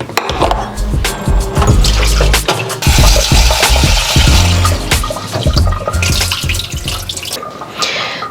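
Water pours steadily from a tap into a pot of uncooked brown rice, a loud continuous splashing fill with gurgling surges that runs for several seconds before cutting off.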